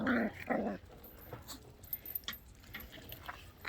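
Border collie puppies growling while playing on a spring day, two short close growls at the start followed by faint scuffling and small yips.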